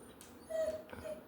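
Puppy whining indoors, a thin high whimper heard in two short drawn-out bursts over a steady low background hum.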